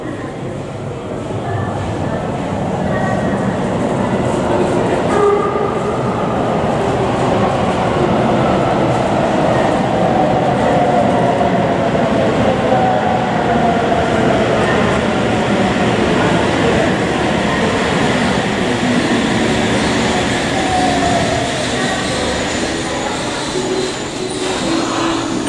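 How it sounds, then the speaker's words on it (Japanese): A Sendai Subway Namboku Line train rumbles steadily into Kotodai-koen Station, a loud continuous roar with squealing wheels and a faint voice mixed in. "Attention please. A train is approaching platform 2."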